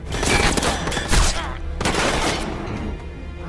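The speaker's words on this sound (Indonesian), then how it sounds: "Tentara Rusia langsung datang ke sana dan melepaskan tembakan spekulasi." Gunfire from Russian soldiers in a submarine war film, loud dense bursts of shots in two heavy clusters with a booming low end, then a lingering rumble.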